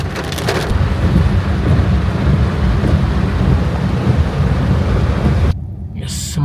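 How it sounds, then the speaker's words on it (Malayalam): Heavy rain pours steadily with deep thunder rumbling beneath it on the way to a waterfall in Bali, loud and dense, then cuts away abruptly to a quieter, thinner scene near the end. "നമ്മൾ ദൂരം താണ്ടുന്തോറും മഴേൻ്റെ ശക്തി കൂടിക്കൂടി വരുന്നുണ്ട്."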